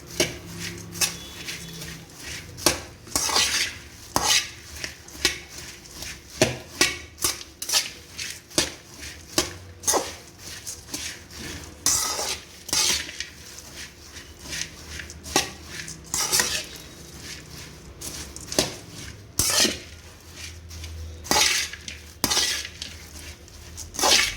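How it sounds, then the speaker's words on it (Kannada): Puffed rice is stirred with cooled tempering in a bowl for girmit mandakki, producing repeated clinks and scrapes of a utensil against the bowl in an irregular rhythm, close and fairly loud, alongside a soft rustle of the rice. "ಈಗ ನಾನು ಮಂಡಕ್ಕಿಯನ್ನು ಕಲಿಸ್ತೀನಿ ಹಾಕಿದ್ದಕ್ಕೆ"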